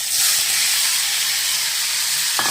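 Onion sizzling in hot oil for a dry prawn and brinjal curry, a steady loud hiss that holds evenly throughout with no talking.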